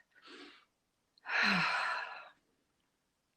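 A person takes a deep breath during a guided breathing exercise: a short inhale, a pause, then a long, airy exhale like a sigh, close and quiet with no talk.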